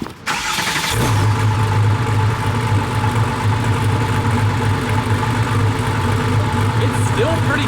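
A Nissan Skyline's engine cranks and catches, then settles into a steady, loud idle close by, with a strong low rumble holding throughout.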